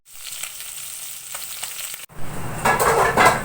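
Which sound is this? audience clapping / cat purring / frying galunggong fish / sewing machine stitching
frying galunggong fish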